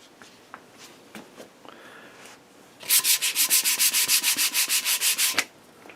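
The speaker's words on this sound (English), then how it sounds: "we just want to touch that up with the sandpaper" Sandpaper rubs over a parawood desk kit in a fast, even run of about a dozen loud back-and-forth strokes, preceded by quieter handling taps and scrapes.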